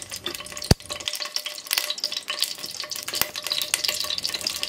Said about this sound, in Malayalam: ഇതിലേക്ക് 2 ടേബിൾ സ്പൂൺ കുക്കിംഗ് ഓയിൽ ഒഴിച്ചു കൊടുക്കുകയാണ്